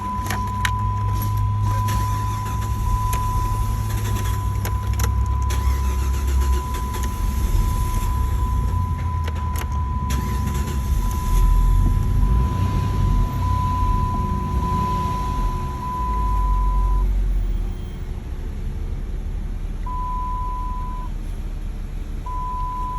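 A 2009 Dodge Charger with a 2.7L engine drives along after a fuel pump replacement, giving a steady engine and road rumble with an on-and-off beeping tone and occasional clicks, no talking.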